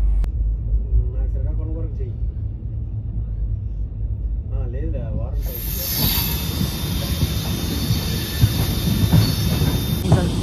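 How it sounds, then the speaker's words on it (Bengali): A passenger train on the Kolkata to Guwahati route pulls away after a two-minute halt, with low rumbling and a rising high-pitched hiss or wheel squeal from onboard, while a voice talks briefly near the start. "এই আমাদের ট্রেন ছেড়ে দিল"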